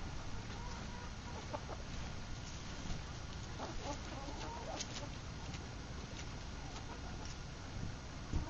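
Tame chickens in a PVC enclosure cluck softly amid steady background noise, with a few short clucks and calls scattered throughout, fairly close by.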